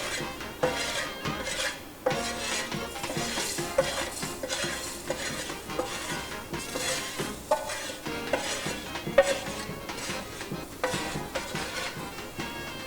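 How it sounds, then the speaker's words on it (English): Food sizzles in a pot of beans while a utensil stirs and scrapes repeatedly, producing rhythmic clinks over a continuous frying hiss. "Okay, we want that sizzle."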